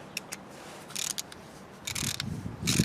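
A Torx screwdriver loosens a screw on a DeWalt orbital sander, giving a few faint ratcheting clicks and short grinding scrapes in irregular bursts, with a slightly louder turn near the end against a quiet background.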